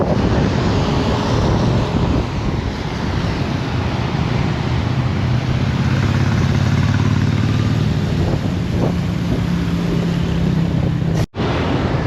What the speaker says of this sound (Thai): มันอาจจะมีเสียงลมในเด้อทุกคน